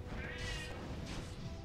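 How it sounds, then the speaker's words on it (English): A house cat gives two faint meows, one drawn out and one short, over dense background noise from a Warcraft 3 match. "And my cat is meowing."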